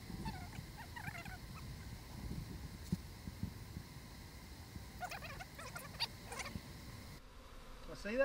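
Honeybees buzz around an open hive of stickly comb frames, a busy near drone with scattered louder passes of individual bees, over soft outdoor background noise.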